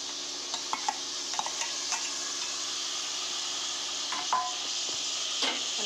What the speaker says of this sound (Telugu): ఇప్పుడు మనం క్లీన్ చేసి పెట్టుకున్న పచ్చిరొయ్యలు వేసుకుందాం